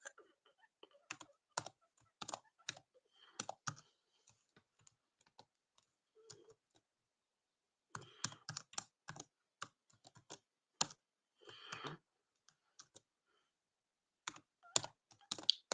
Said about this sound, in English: just typing it out now